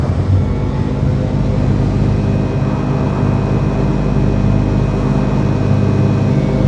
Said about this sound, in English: The engines are functional. There's a vertical thrust.